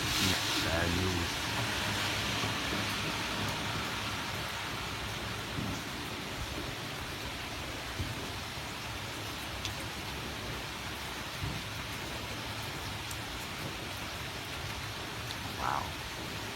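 Heavy rain pours steadily during a thunderstorm, a dense even hiss with faint low rumbles and a few soft knocks, recorded outdoors with no clear talking.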